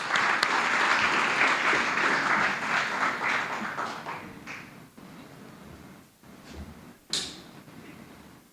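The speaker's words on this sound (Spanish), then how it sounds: "lo recibimos con el aplauso también afectuoso de cada uno de nosotros" Audience applause welcoming a speaker onto the stage at a presentation, a dense burst of clapping that thins and fades over several seconds, leaving scattered claps and shuffling before one sharp final clap.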